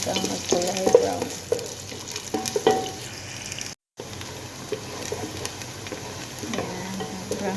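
Onions frying in oil in a pan while being stirred: a continuous sizzle with scraping and clacking utensil strokes, close and moderately loud, broken by one brief silent cut midway.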